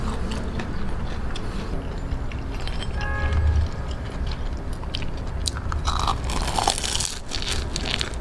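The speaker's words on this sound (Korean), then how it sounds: "단짠단짠하고 바삭바삭한 핫도그." Crispy fried cheese corn dog being bitten and chewed up close, crunching loudly and steadily throughout with no talking.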